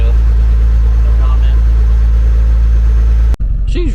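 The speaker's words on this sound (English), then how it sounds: "She's rough, but she's a pretty good old tractor." An old, rough-running International Harvester 1086 tractor engine rumbles loudly and steadily up close, with a brief cut near the end and a voice speaking afterward.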